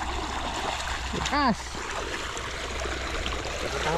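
Overflowing irrigation water runs steadily along a stream on a farm, a continuous rushing wash with a brief splash, heard under people talking nearby.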